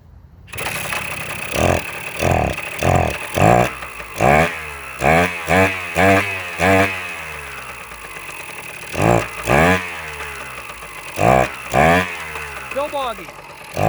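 An engine being started and run while its hesitation is diagnosed: several loud revving bursts climb and fall in quick succession, with short idling gaps and a pause mid-way.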